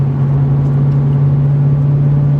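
A 2007 Mustang GT V8 engine droning steadily from inside the cabin while driving on a curvy hilly road, a strong low hum holding even and continuous with no talk.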